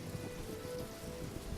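Rain falls in a steady, soft patter, faint and even throughout, with no voices.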